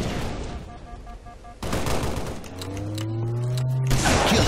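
Shotgun blasts and weapon handling in Halo: Reach sound in bursts: sharp booming shots, mechanical pump clacks and a rising whine, all loud and close. There is no talking.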